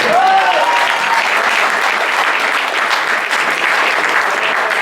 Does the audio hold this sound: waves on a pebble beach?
no